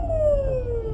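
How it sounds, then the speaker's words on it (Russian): A fire engine siren wails nearby on a road, a single steady tone sliding slowly downward for a brief moment, with no voices. "Слышен звук сирены"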